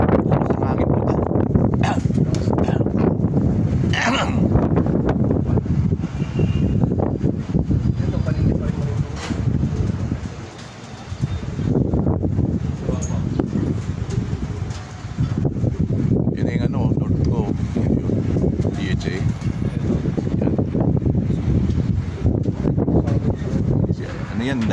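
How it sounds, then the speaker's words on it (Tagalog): Strong morning wind buffets the microphone outdoors, a loud, continuous rumbling roar that briefly eases twice before surging again, with a faint bark somewhere in the distance. "Malakas ang hangin po ito."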